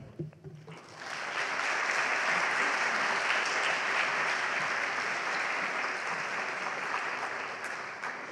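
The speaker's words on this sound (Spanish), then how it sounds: "recibamos con un fuerte aplauso a Matei" A large audience at a liberty festival debate event in Spain bursts into loud, sustained applause to welcome a speaker, rising quickly after a brief murmur and holding steady throughout.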